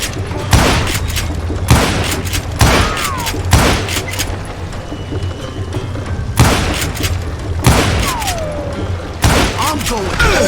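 Gunfire in the Call of Juarez Gunslinger video game: a series of loud, sharp shots and booming blasts at irregular intervals over a steady game soundscape, with a voice speaking between the shots.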